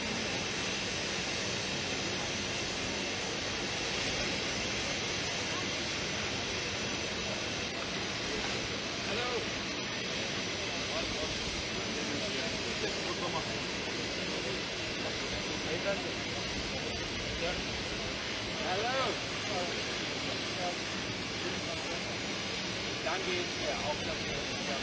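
Loud, steady jet engine roar of an airplane landing at Gaziantep Airport fills the whole stretch, a broad continuous whine with a voice speaking over it.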